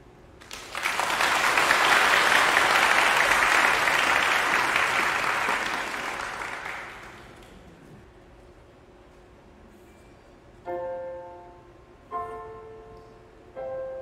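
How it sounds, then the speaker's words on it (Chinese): Concert audience applause at a children's choir autumn thanksgiving performance swells loudly for several seconds and then fades, followed by a few soft piano chords. "让我们以热烈的掌声欢迎指挥庄碧华老师、钢琴合作吴盈萱老师以及可爱的孩子们吧"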